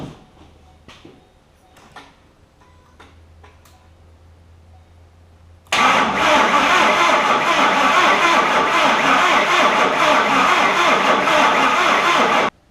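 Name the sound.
rebuilt Ford 5.4 3-valve engine cranking on start attempt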